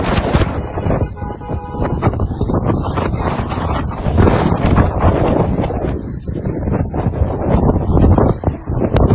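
Strong storm wind with violent, hot gusts in Motril, Spain buffets and roars continuously, rising in loud gusts with rumbling microphone noise throughout.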